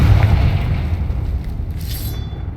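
A Confringo fire-blast spell bursts in the Hogwarts Legacy video game, a loud, rumbling low boom that fills the opening and decays slowly into a sustained roar, with a brief bright crackle near the end and no talking.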